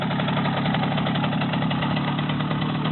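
A Romet motorcycle engine runs steadily close by, a continuous mid-pitched thrumming idle with a slight knocking pulse and only mild throttle change.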